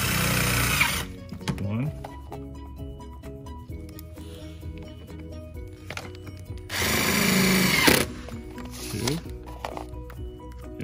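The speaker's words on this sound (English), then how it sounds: "here we're gonna use a T30 with a power driver" A power driver fitted with a T30 bit runs screws in two short bursts of whirring and clicking, a brief one early and a louder one about a second long later, between quiet handling noises and a few spoken words.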